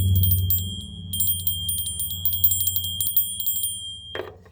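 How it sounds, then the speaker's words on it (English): A cluster of small bells rings in a steady, rapid tinkling pattern with a constant high tone beside it. A low hum sits underneath, and the ringing stops abruptly near the end. "I'm hearing more bells."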